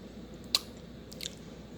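A crunchy, fairly mild radish bitten and chewed, one sharp crisp crunch followed by a softer second chew a moment later, faint and close with quiet background.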